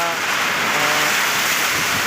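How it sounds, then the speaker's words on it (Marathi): Steady, dense hiss of summer rain falling on farmland, loud and continuous with no pauses or voices. "मस्त मस्त एकदम पाऊस पाऊस हजेरी लावतो आहे"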